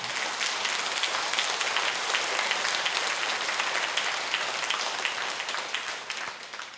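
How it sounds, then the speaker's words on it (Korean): A congregation at a church lecture claps steadily. The thick, sustained applause stays even and loud throughout with no talking, then eases slightly at the end. "이 박수는 하느님이 받으시는 박수예요"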